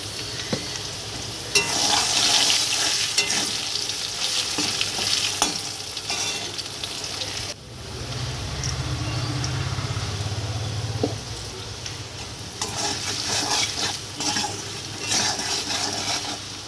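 Potatoes frying in a pan as the first step of a hilsa fish curry, a loud steady sizzle with frequent stirring and scraping, a brief dip midway before the frying resumes.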